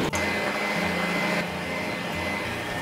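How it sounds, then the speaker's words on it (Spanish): A steady electric whirring drone of a hand mixer with wire whisks beating egg whites, running continuously at close range, with a slight shift in pitch partway through. "montar las claras con una batidora de varillas"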